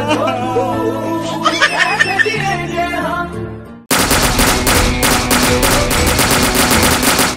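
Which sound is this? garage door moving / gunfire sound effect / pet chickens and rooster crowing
gunfire sound effect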